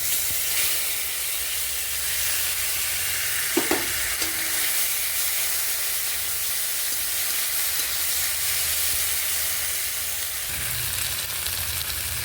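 A spice paste of ground mustard, peanut, ginger and green chilli sizzles steadily in hot oil in a wok, with a brief clatter of stirring midway and a continuous close frying hiss throughout, no talking.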